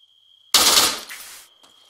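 A short, loud burst of rapid automatic gunfire in a military shooter video game, lasting about a second against a faint steady tone, with no talking.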